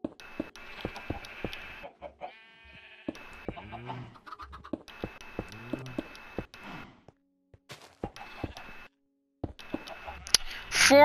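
Chickens in the Minecraft video game cluck repeatedly on a farm, with soft scattered clucks and a few short pauses, fairly quiet and close, and a louder burst right at the end.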